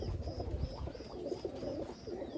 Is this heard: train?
no